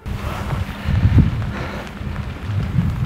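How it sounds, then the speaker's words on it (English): Heavy rain pours outdoors at night in a continuous rough hiss, mixed with wind buffeting the microphone in low gusts, with no voices heard. "it's starting to rain pretty heavily now"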